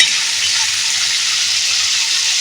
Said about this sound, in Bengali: হলুদের গুঁড়োটা দিয়ে একটু ভেজে নেব মশলাটা ভালো করে কষে নিয়েছি